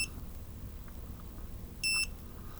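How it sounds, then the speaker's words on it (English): A Volador Deadcat drone emits a single short, sharp electronic beep after being unplugged, rising briefly above quiet background noise. "Now when you unplug it, it starts beeping low."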